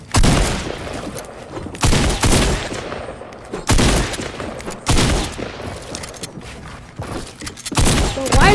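Fortnite gunfire, including shotgun blasts, in loud repeated bursts and volleys spread across the stretch, punchy and close, with a player voice talking between shots.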